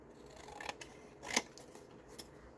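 Scissors snipping through paper in a quiet room, two or three soft, close cuts spaced apart.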